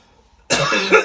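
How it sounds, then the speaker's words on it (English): A single harsh, loud cough bursts out close up after a short stretch of near-silence. "Oh dear, bad cough."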